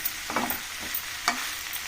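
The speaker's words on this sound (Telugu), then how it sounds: "ఫ్రై అవుతున్నాయి ఉల్లిగడ్డలు" Onions sizzle in a pan for an onion and fresh coconut curry, a steady close crackle broken by a few sharp scrapes of a spatula stirring.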